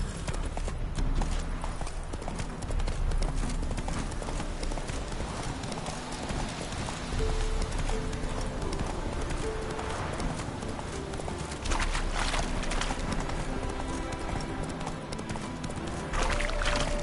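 A horse in the video game The Witcher 3 gallops with continuous rhythmic clip-clop hoofbeats, moderately loud, over outdoor game ambience, with no talk.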